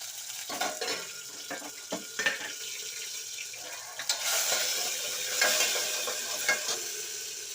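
Garlic-ginger paste sizzles in hot oil during a tempering for hotel-style idli sambar, with steady frying hiss, a few scraping stirs and light clinks of the pan, close and fairly loud with no talking.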